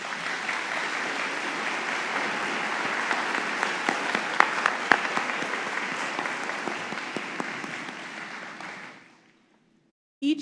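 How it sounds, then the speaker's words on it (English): Sustained applause from a large commencement audience at Montgomery County Community College's 2024 ceremony, dense steady clapping filling the hall for about nine seconds before stopping abruptly. "Please join me in a round of applause for all the faculty who have challenged and supported"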